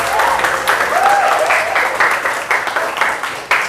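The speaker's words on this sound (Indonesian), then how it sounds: "Tepuk tangan untuk kalian semua." A school class claps for its students during an Indonesian news-text lesson, a lively burst of many hands with uneven rhythmic accents and a faint voice briefly heard among the claps.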